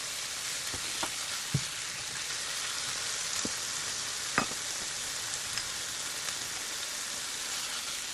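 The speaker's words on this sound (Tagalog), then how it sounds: "Stir fry the chicken." Chicken stir-frying in butter in a pan, a steady soft sizzle with scattered faint clicks and taps of stirring throughout.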